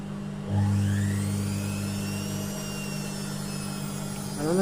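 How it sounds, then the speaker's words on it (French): A new washing machine motor spins up to a steady whirring spin cycle, rising in pitch at the start and holding a loud, even hum close by, with another ramp toward the end. "Regardez bien comment elle va essorer la puissance qu'elle va avoir au niveau du moteur."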